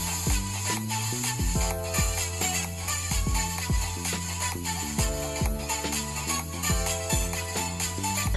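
Music plays steadily through the small built-in speaker of an Acer Switch Alpha touchscreen laptop, with a continuous melody at modest volume and no talking.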